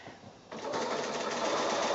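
Sewing machine running a straight stitch a quarter inch in from the edge of a quilt border; a close, steady mechanical whir starts after half a second and continues evenly.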